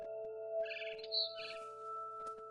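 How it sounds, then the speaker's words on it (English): Barn swallow calling near a window in a PS4 game: a few short bright chirps and a rising whistle around the middle, set against steady low electronic tones and faint background hum. "Then I heard chirping outside my window. It was a barn swallow going back to her nest."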